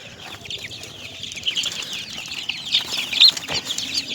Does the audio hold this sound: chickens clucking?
yes